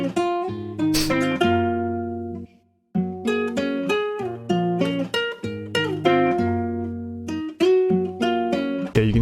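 Clean electric guitar sample with no effects, a chill melodic pattern of plucked notes and chords played in repeating phrases with a brief gap early on, close and clear with no voices.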